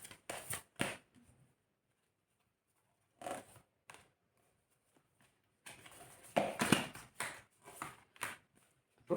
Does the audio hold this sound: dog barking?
no